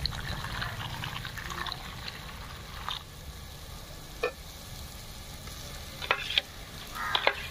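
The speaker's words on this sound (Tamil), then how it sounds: "இருக்கிற பொடியில் வந்து தண்ணி ஊற்றி கலக்கிக்கலாம்" Water poured into spice powder and stirred in a pan over a low sizzle, with a few scraping clinks of a spoon toward the end.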